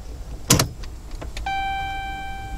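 Ignition cycled on a Gen3 HEMI vehicle: a sharp click and rattle of the key, a couple of softer clicks, then a steady chime tone holds over a low cabin hum.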